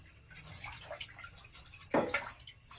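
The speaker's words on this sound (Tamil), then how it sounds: "சிக்கன் கழுவ போறோம்" Tap water runs and splashes while raw chicken is washed in a kitchen before making a spicy chicken curry, a steady low trickle with a louder gush of splashing near the end, no voices.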